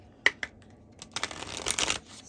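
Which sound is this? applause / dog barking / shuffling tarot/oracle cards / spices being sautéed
shuffling tarot/oracle cards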